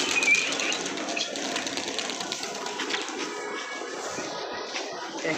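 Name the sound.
pigeons flying, wings flapping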